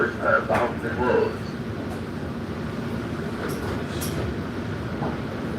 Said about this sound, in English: We in the train right now.